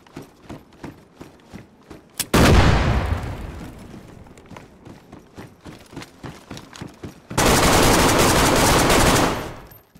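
A claymore mine in DayZ goes off by remote detonator: two loud, broad blasts, one around the two-second mark with a long fading tail and a second, sustained roar later, between rapid clicking footsteps or rattles.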